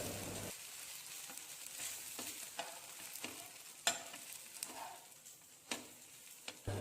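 Sweet kuzhi paniyaram fry in a pitted pan while being turned over, with a faint low sizzle and a series of sharp metal taps and scrapes from the flipping.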